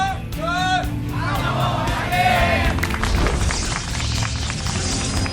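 A StarCraft II GSL tournament audience cheers and whoops in a loud, synthetic-sounding swell, with excited shouting over the noise.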